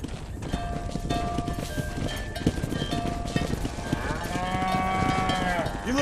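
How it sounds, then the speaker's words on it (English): A herd of cattle being driven in Red Dead Redemption lows and moos repeatedly and close by, over a busy layer of hoofbeats and movement, with drawn-out moos growing louder toward the end. "Steady now, you dumb cows!"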